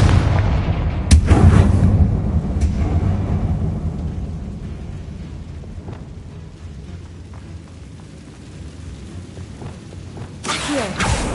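Confringo fire spell explosion in Hogwarts Legacy, a loud booming blast with a sharp onset followed by a long rumbling decay, then another burst near the end.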